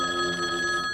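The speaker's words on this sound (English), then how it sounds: "The dial-up telephone rings in response." An old dial-up telephone rings in a tense audio drama, its bell trilling steadily and loudly for the whole moment with no voices.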